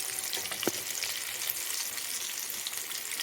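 Gram flour batter frying in hot oil, a steady bright sizzle with small bubbling pops, close and continuous with no voices.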